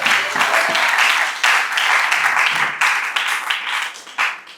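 Church congregation applauding during a thanksgiving celebration service, a dense burst of clapping that swells and fades in waves, with brief voices mixed in.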